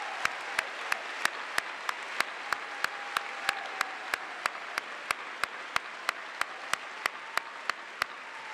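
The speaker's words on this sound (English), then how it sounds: "Let's give her a round of applause." Applause at a law school commencement ceremony, a steady wash of crowd clapping heard from a distance, faint and even throughout, with regular sharp ticks recurring beneath it.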